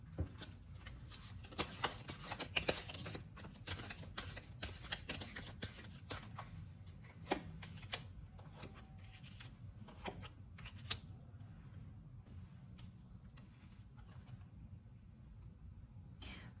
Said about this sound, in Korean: 그러면 이 관계에 대한 조언 카드 한번 뽑아보도록 할게요.